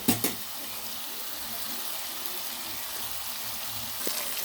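Tomato chutney with tamarind simmers in a pan, a steady close sizzle and bubbling hiss throughout, opening with a couple of brief clinks from stirring and a small clink near the end, with no talk.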